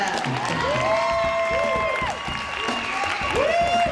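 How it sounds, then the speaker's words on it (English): Audience at a spoken-word performance in a café setting applauds and cheers steadily for a performer coming up to the mic, a dense wash of clapping with whoops and shouts, while a sustained whistle-like tone sweeps over it. "give a round of applause for my man coming up to the mic"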